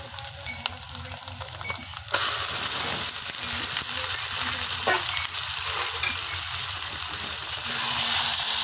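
Marinated chicken drops into a pan of fried ginger and garlic and sizzles loudly, with steady frying hiss and intermittent stirring scrapes; a quieter simmer is heard before the meat goes in.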